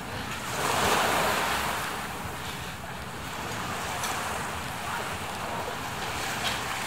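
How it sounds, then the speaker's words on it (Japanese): Ocean waves wash steadily onto a sandy beach at a resort on Koh Lipe, Thailand, as a continuous broadband roar of surf with gentle swells and some wind noise on the microphone, and no talking. "いや海の音がいいですね。"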